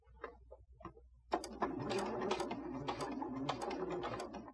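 Sewing machine stitching a fabric face mask, starting with a few faint clicks and taps, then a quiet, steady mechanical run of needle strokes close by.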